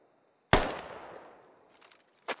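Gunfire in the military shooter Squad: one loud, close shot with a long echoing tail that fades over more than a second, then a second sharp report at the end.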